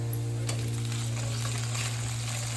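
Ginger garlic paste fries in a pan with a continuous close sizzle, alongside a steady low hum from a kitchen appliance and no voices.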